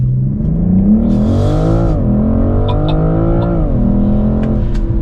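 A BMW M440i G22 in Sport Auto launches hard from a brake hold on wet tarmac, its engine loud and close, rising in pitch through successive gears with brief dips at each shift and a short hiss of spray.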